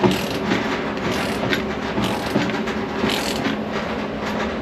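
Ratchet wrench clicking while wheels are fitted to a restomod Ford Bronco, a steady mechanical clatter running throughout at fairly close range with brief louder bursts and no talk.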